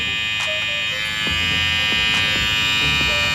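A BRDCLIP F90 hair clipper motor runs continuously with a steady high-pitched electric buzz and a smooth hum, close and loud, with a few faint clicks and handling sounds over it.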